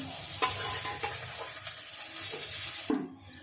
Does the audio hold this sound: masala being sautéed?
yes